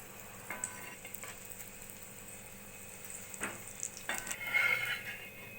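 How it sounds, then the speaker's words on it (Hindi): Veg soya kebabs deep frying in hot oil, a soft steady bubbling sizzle with occasional clinks and stirring scrapes, growing fuller toward the end. "इसी तरह से अब हम दूसरे कबाब को भी डीप फ्राई कर लेंगे"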